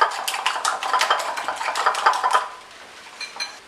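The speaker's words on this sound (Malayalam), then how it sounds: "പഞ്ചസാരയും മുട്ടയും കൂടെ നന്നായിട്ട് മിക്സാക്കിയെടുക്കും." Powdered sugar and egg whisked together in a bowl, a quick rhythmic clatter of whisk against the bowl, loud and close, easing off and thinning toward the end.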